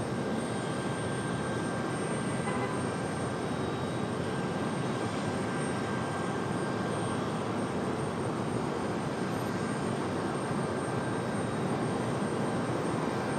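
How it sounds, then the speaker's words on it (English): Lufthansa heavy jet airliner taking off from runway 23 right at Raleigh-Durham International Airport, a loud, continuous, steady engine roar with broadband rumble that stays constant throughout. "Lufthansa 409, a heavy fly, runway heading runway 23 right, clear for takeoff"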